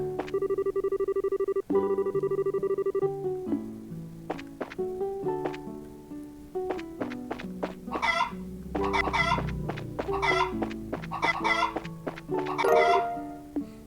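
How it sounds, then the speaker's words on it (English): Chickens in the video game Trails in the Sky cluck and squawk in a busy, overlapping flurry after a tonal game jingle, clucks bunching into rapid agitated bursts toward the end. "Scare the chickens enough. Chase the chickens off"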